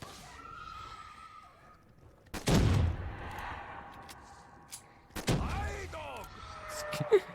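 Call of Duty Black Ops 3 Zombies gunfire in Kino der Toten, with two loud, heavy blasts a few seconds apart and their rumbling tails, plus softer game effects and a sharp crack near the end.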